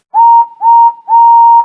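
A steam engine whistle gives three sustained toots in a row, each clear, loud and steady in pitch, with short gaps between them and no other sound.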